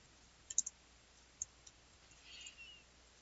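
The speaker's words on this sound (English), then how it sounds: "they do that like clicking sound" Roadrunner making sharp clicking calls: a quick cluster of three near clicks, then a couple of single clicks and a faint soft rasp, all quiet against a low background hiss.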